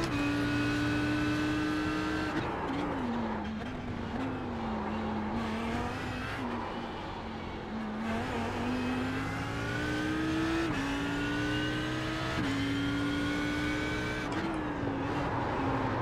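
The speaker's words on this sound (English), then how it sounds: "That's what happens when you downshift too fast again." An iRacing race car at Zandvoort drones at steady high revs, its engine pitch dropping and jumping with each downshift, then climbing again, loud and continuous without talk.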